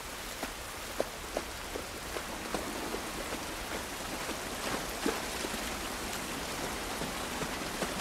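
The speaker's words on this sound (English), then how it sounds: "This rain ain't gonna do us any good." Steady rain falls outdoors in The Last of Us Part 1, a dense, even wash of drops with scattered louder patters landing nearby, continuous and without voices.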